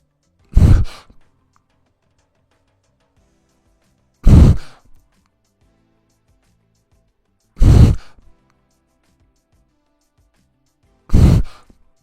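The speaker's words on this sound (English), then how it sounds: "follow along my breathing pattern while I swim freestyle, breathing every 3 strokes" Four loud, close breaths spaced about three and a half seconds apart, each a sharp broadband exhale-and-gasp burst from a swimmer doing freestyle and breathing every third stroke, with near silence between them.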